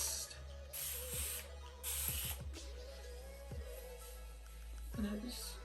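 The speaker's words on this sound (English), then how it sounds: "So I just spray it with a little bit of water first." Water spritzed from a spray bottle onto hair during a styling session, heard as two or three short hissing bursts close up, with faint clicks between them.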